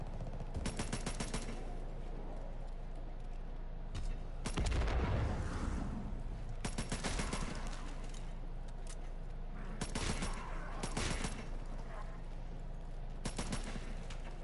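Video game gunfire in rapid bursts, with loud automatic volleys and heavy booming shots coming in clusters across the stretch with short pauses between, close and dense, no talking.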